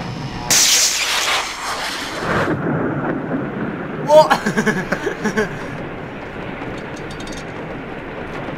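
In the Limbo video game, a loud crash of thunder bursts in, then heavy rain hisses steadily while people talk and laugh over the downpour.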